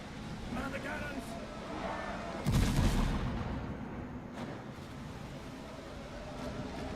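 A single loud cannon blast from a pirate ship in the survival game Windrose booms out over steady wind and sea ambience, with a voice calling orders nearby.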